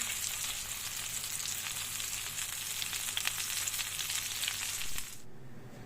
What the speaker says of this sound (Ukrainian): Перевернула вже і піджарюється тепер з обох боків уже